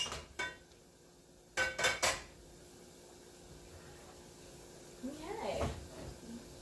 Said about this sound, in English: now we're gonna grab like a skillet of some type, something that you're good with cooking eggs in